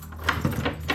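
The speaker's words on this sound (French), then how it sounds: "Je ferme la porte," A door is closed while a bunch of keys jangles in several quick metallic bursts, close and moderately quiet, over about a second.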